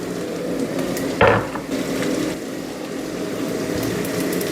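Onions sizzling in a hot frying pan as they are stirred, a constant close crackle with one sharp scrape or clatter of the utensil partway through.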